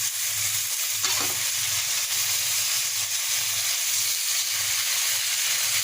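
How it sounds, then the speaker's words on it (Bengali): Chicken sautés in hot oil for a Bengali chicken curry with bottle gourd, a steady close sizzle and hiss with faint rhythmic stirring scrapes, no voices. "চিকেন কষা হয়ে গেছে এই যে তেল বেরিয়ে আসছে"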